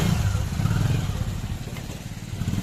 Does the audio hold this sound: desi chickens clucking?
no